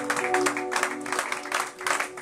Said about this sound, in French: Acclame très fort cet homme de Dieu qui vient de là.